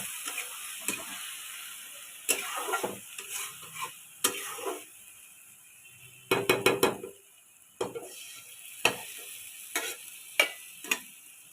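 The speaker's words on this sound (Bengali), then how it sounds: "দিয়ে মশলাটাকে খুব সুন্দর করে ভেজে নেব" Spice paste fries in a pan for a snail curry, a hissing sizzle punctuated by irregular scraping and clattering stirs of a spatula against metal, close by, with a quick burst of rattling strokes midway and no talking.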